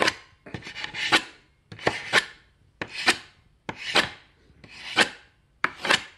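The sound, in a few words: knife chopping wood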